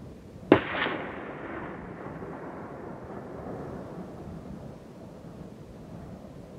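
A single hunting rifle shot fired at a single-horned kudu bull in the Erongo mountains: one sharp, loud crack near the start, followed by a long rolling echo that fades slowly across the landscape.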